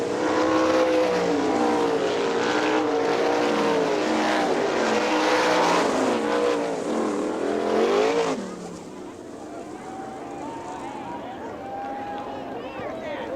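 410 sprint cars racing at Hartford Speedway in Michigan, engines wailing in rising and falling passes under steady announcer commentary, loud at first, then the roar drops off and fainter cars continue in the distance.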